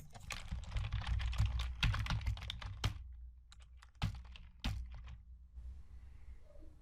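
A computer keyboard is typed on in a quiet room as a Python file name is entered, with a dense run of quick key clicks followed by a few separate, louder keystrokes and pauses, close and alone.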